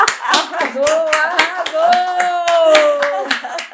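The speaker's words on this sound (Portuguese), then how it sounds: "Pode aplaudir isso aí, eu tô com a equipe aqui para aplaudir" A small team claps in a steady rhythmic beat on a talk show set, the sharp claps close and even, with a sustained voice calling out over them partway through.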